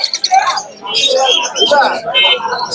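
Caged birds at the Mirpur-1 bird market, where parakeet chicks are sold, give bright, close chirps and whistled calls in quick overlapping bursts, with voices mixed in.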